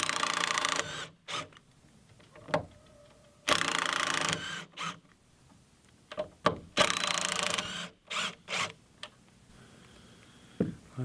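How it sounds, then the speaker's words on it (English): A power driver whirs in short bursts while backing screws out of a workshop wall, with several bursts separated by small clicks and knocks. "So I'm going to pull these screws out and try to scoot it this way"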